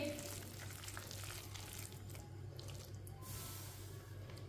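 Potato pakora batter fries in hot oil with a steady, close sizzle and bubbling hiss over a low hum, continuous throughout.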